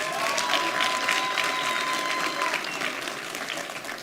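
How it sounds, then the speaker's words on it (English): Audience applause for award winners at a gala dinner awards evening, steady dense clapping from a large room throughout, with a faint tone lingering beneath. "Can we give them a round of applause again?"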